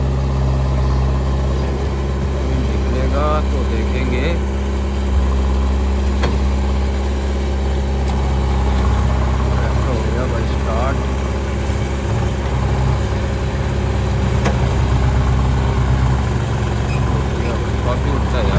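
A John Deere tractor engine idles steadily and loudly throughout while a trolley is loaded with soil, a constant low rumble with faint background sounds but no clear talk.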